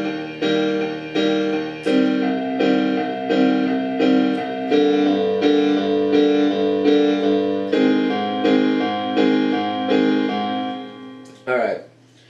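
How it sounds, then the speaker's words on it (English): Piano running through the verse chords of a song, a steady sequence of struck chords at an even pulse, close and clear, ending with a brief noisy knock. "So I'll just run through all the verses, or all the chords really quick."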